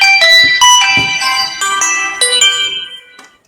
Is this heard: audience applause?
no